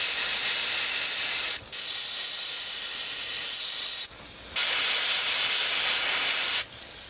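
Darkening paint is airbrushed onto a popper fishing lure in three long, steady hissing bursts, close and loud, separated by brief pauses.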